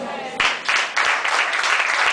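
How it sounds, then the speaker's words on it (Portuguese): A church congregation claps in a steady, fast rhythm, with dense broadband bursts and a voice faintly underneath. "Aplauda mais forte, meu irmão, porque a presença de Deus é forte neste lugar."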